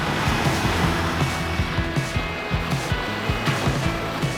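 A four-wheel-drive vehicle crosses the Nicholson River on a remote outback track, its engine droning steadily under a continuous rush of water and spray, close and loud.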